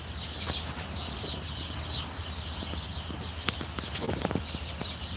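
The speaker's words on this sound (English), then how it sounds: "You guys hear all the birds in the background?" Birds chirp and call intermittently in the background outdoors, faint scattered tweets over a low ambient hum, with a few brief clicks and knocks near the end.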